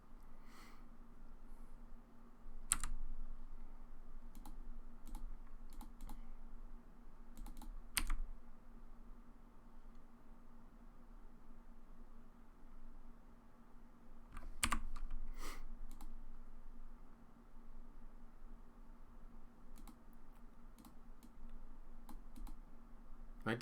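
Computer keyboard typing and clicking during an online Magic: The Gathering game, sparse isolated key presses and short clusters spread over a steady low background hum, close and quiet.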